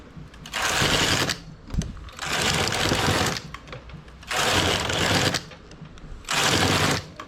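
A hand-operated knitting machine carriage runs across rows of wide rib knitting, giving four loud, even whirring passes of about a second each, separated by short quiet pauses.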